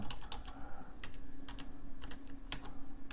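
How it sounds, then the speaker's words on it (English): Keys being typed on a keyboard attached to an IMSAI 8080 replica computer, a scattered run of crisp, close clicks in uneven rhythm over a steady electrical hum. "See if I can actually type something out here."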